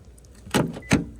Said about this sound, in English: you press that and it locks, the little button